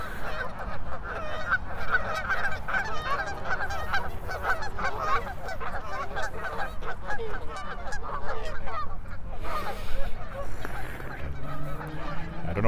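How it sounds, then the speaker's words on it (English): A flock of geese honks continuously at a lake in Regina, a dense, loud chorus of overlapping calls running throughout amid outdoor background noise. "The geese are having a lot to say for some reason."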